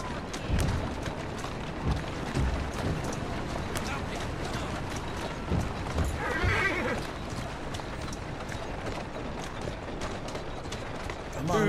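A horse neighs amid clip-clopping hoofbeats in the Victorian London of Assassin's Creed Syndicate, irregular thuds and a whinny mid-way over busy game ambience.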